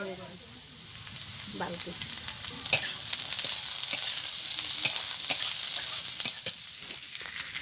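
Green peas and mixed vegetables sizzle in a hot pan for a vegetarian flattened-rice pulao, with a constant frying hiss and sharp clinks of stirring. A voice speaks briefly over the cooking.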